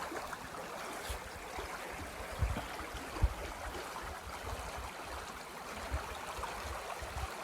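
Water flowing from an intermittent spring as its flow slows, giving a steady, even rushing wash heard from nearby with a couple of faint bumps and no talking.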